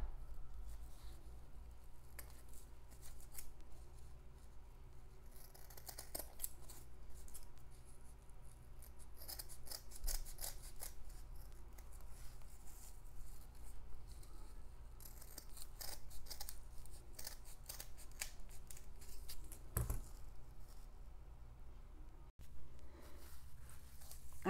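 Scissors cut through thick jute to shape a Christmas star ornament, giving quiet, irregular snips and rustling scrapes at close range with no talking.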